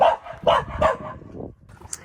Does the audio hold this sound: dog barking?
yes